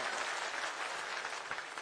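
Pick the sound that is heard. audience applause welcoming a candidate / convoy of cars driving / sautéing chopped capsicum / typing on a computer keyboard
audience applause welcoming a candidate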